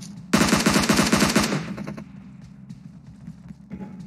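Rapid automatic M4 rifle fire in a video game, a loud, close burst of about a dozen shots in quick succession, then a few scattered single shots and faint clicks.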